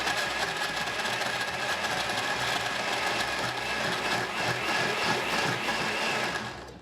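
Blender running steadily on tomatoes, limes, olive oil, Worcestershire sauce and balsamic vinegar for gazpacho, a continuous loud whirring grind with no pauses, fading slightly at the end.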